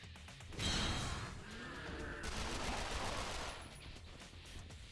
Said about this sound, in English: All the gunfire that's been going on inside the quarantine zone